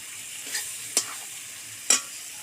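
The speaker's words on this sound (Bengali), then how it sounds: "আরেকটু কষিয়ে নেব" A duck egg masala is stir-fried in a pan over a faint background hiss, with three separate scraping strokes of a spatula spaced about a second apart.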